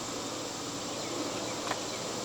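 A steady, faint insect drone fills the air around an open honeybee hive after a fall swarm, with a continuous buzzing hum and no voices.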